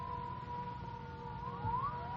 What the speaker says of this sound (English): Listen, the siren.